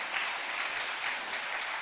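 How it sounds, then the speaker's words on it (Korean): A church retreat audience claps steadily, a continuous wash of applause with no voices over it. "정말 괜찮은 박수도 쳐주고"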